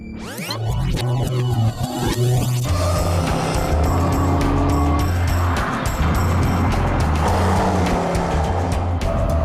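A Land Rover Range Rover Sport with a 503-horsepower supercharged petrol V8 roars loudly on the Donington Park racetrack, its engine note sweeping up and down through gear changes close to the microphone.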